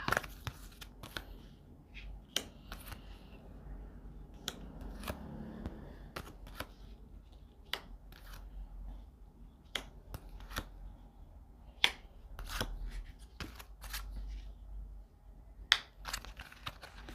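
Tarot cards are handled and laid out on a quiet surface: scattered crisp snaps and soft slaps of card stock, spaced irregularly, with faint rustling between them and no talking.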